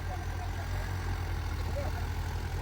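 A New Holland tractor stuck in deep mud idles with a steady low, rumbling drone that stays constant and close throughout.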